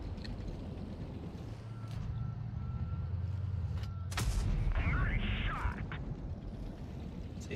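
Video game gunfire in a shooter, a few sharp shots cutting through a rumbling vehicle-like background drone, with a player talking over the action.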